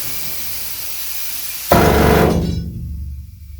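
Steady loud hiss suddenly gives way to a harsh, roaring burst of a mining drill boring into rock in a gold mine, gradually fading, heavy and close.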